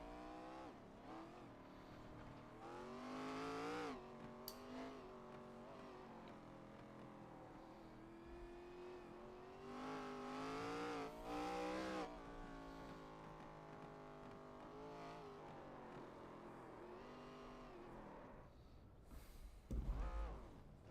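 A race car at Lime Rock Park does a burnout, its engine revving and wailing in rising and falling sweeps with tire noise, heard quite faint and distant for the whole stretch.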